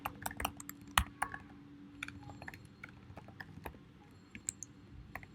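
Code being typed on a computer keyboard during a Vuex coding session: irregular bursts of close, crisp key clicks with short pauses between runs, some strokes sharper than others, no voices.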